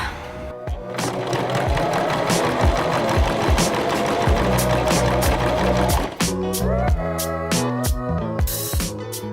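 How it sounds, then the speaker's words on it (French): Sewing machine running a simple seam on a Christmas stocking: a fast, steady mechanical rattle of needle strokes that briefly pauses, then resumes in shorter, choppier bursts, loud and close. "on fait une couture toute simple à la machine"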